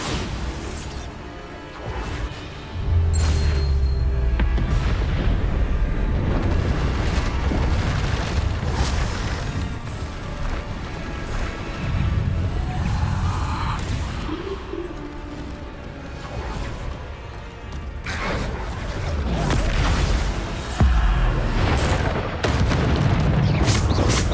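Repeated Bombarda spell blasts in Hogwarts Legacy, heavy booms and crashes that recur over a dense background of game effects, loud and close.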